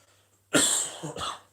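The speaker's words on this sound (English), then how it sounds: "You'll have to excuse the cough." A single harsh cough close to the microphone, followed by a second shorter cough burst after a quiet start.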